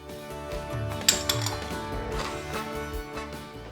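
Spoon scraping and clinking in a bowl as melted butter is mixed into a keto rhubarb crumble topping; soft repeated stirring clatter with a couple of sharper clinks, close and alone.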